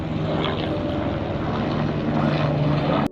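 A helicopter flying over the Baltal route on the Amarnath Yatra trek, its steady rotor and engine drone loud and continuous throughout.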